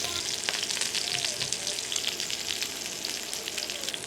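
Costco steaks searing in beef tallow in a hot pan, a dense, loud, continuous crackling sizzle with fine spattering pops, close up and without voices.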